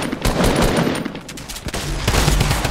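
Rapid, irregular bursts of gunfire in Fortnite Battle Royale, many loud cracks and pops in quick succession with overlapping shots and a dense, chaotic rhythm throughout.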